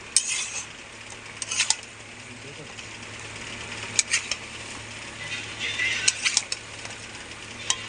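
Chicken and raw potatoes are stirred and sautéed in a pan, with repeated metallic scraping and clinking of a spoon against the pan over a low background sizzle.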